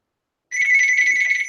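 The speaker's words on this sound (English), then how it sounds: "now I have a phone ringing" An office desk telephone starts ringing abruptly after a moment of silence, a loud, steady electronic trill up close with no voices over it.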